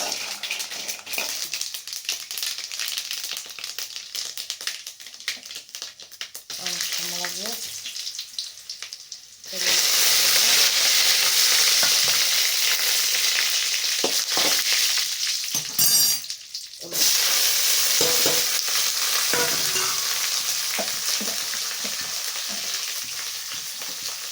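Mustard seeds splutter in hot oil for an Andhra pumpkin dish: a quieter crackle at first, then a sudden loud, dense sizzling and popping that carries on with brief dips, close to the pan.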